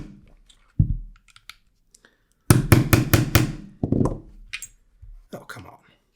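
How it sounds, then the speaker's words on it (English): A plastic hammer strikes an ACR adapter on a SIG SG55x rifle: a few isolated knocks, then a quick burst of about five sharp whacks, followed by scattered softer taps and handling clicks. "Give it a first few whacks with the plastic hammer."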